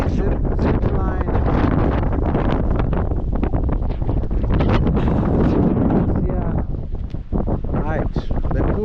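Strong gusts batter the microphone at a scenic hilltop lookout near a zipline, a continuous roaring buffet of wind that never lets up, with someone talking over it.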